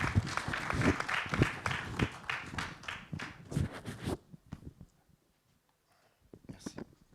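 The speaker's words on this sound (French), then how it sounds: "je vous demande maintenant d'accueillir sous applaudissements Haïté Ajavon" An audience at a business pitch session applauds as a speaker is welcomed, a dense burst of clapping for about four seconds that stops abruptly, leaving near silence and then a few scattered claps and quiet movement.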